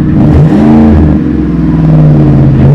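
A Ford F-150 FX4 pickup engine revs up through a deep, throaty Flowmaster single-in dual-out muffler with dual tips, the low rumble swelling and holding loud and close with no talking.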